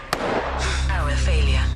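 A single sharp gunshot in a film scene, a loud crack right at the start followed by tense music and a voice speaking over it.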